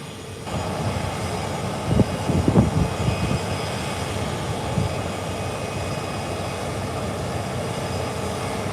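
A British Airways airplane arriving at an airport, its steady aircraft engine roar loud and constant throughout, with a few low rumbling swells early on.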